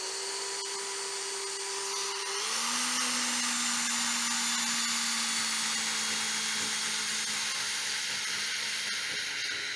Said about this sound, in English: Let the drill do the work.